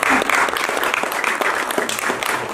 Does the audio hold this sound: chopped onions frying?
no